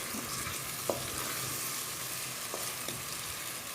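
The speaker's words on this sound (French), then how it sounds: "pour pouvoir les faire revenir tranquillement sans qu'ils puissent cramer" Eggplant meatballs with minced meat fry gently in a pan after a splash of hot water, giving a steady soft sizzle with a few faint utensil clicks, quiet and without talk.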